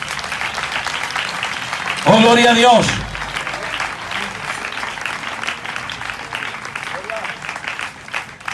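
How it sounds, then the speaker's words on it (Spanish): A church congregation at a Spanish-language evangelical service breaks into a short burst of applause and cheering for about a second, then fades back under a preacher's continuing speech. "Dele un aplauso al Señor"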